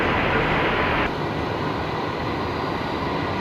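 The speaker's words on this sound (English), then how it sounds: "next arrival coming in any second here is going to be Qantas 196 from Wellington. 737-800, of course." A Qantas Boeing 737-800 arriving at Brisbane Airport from Wellington, heard as a steady, loud broadband jet roar that drops in brightness partway through as the aircraft passes, with no talk.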